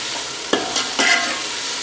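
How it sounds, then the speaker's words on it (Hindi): Garlic and ginger paste sizzles and hisses in a hot pan, with a couple of stirring scrapes breaking through the steady crackle. "जदों ही लहसुन अदरक शामिल करो 4 तो 5 मिनट इसकी भुनाई लाजमी की करो।"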